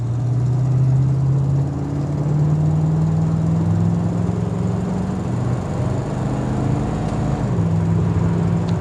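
A 1967 Mustang A-code Fastback engine hums steadily while driving, a continuous mid-low drone with a slight pitch shift partway through, heard close and alone without talk.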